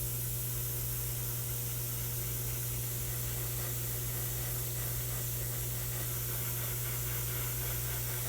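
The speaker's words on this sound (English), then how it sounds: "air dry that with my airbrush real quick" Airbrush blowing a continuous steady hiss of air to dry freshly applied paint, constant and close with an even level throughout and a low hum beneath, no voices.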